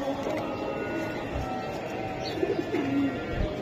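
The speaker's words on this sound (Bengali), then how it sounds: "দর্শক এই যে দেখেন আপনারা কবুতর দুইটা আমরা হাতে দেখাই দিছি" Two racing pigeons held in a person's hands give soft, low coos, faint against a busy background of murmuring voices and rustling.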